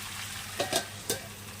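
A vegetarian curry cooks down in a covered pan with a faint, steady low sizzle and a few soft pops and clicks near the middle, with no voices.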